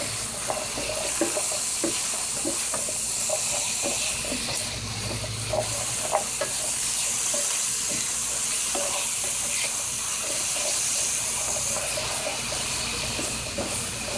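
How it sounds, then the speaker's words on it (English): Broccoli and celery fry in a pan for a veggie pasta stir-fry, a continuous hiss and sizzle of steaming vegetables with repeated scraping and stirring throughout. "Now the reason why I'm stirring this so much is because I don't want it to start settling down"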